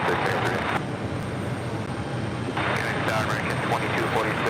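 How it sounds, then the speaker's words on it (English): Airliner departing JFK on runway 4 left, a steady broad jet roar that swells in two bursts at the start and end while the middle dips slightly, with faint voices under it. "I'm loving these departures on 4 left."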